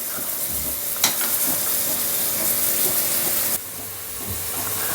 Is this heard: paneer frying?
yes